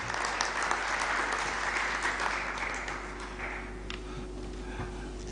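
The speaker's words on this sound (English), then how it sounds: "Let's give him another round of applause" Convention attendees break into warm applause after a presentation, a full burst of many hands clapping that gradually thins and fades toward the end.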